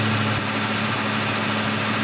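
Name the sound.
2002 Mustang 3.8 V6 engine idling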